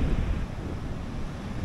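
Ocean surf rolling onto the West Cork coastline in Ireland, a loud continuous roar of waves mixed with gusting wind on the microphone.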